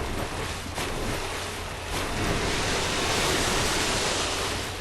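Splashing through deep swamp water in Dark Souls 3: a continuous, loud, broadband wash of churning water with no pauses, surging a little louder toward the end.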